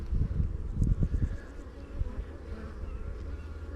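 Honey bees buzzing around a queen cage during a hive inspection, a dense low droning hum close by that swells at first and then settles into a steady, softer murmur.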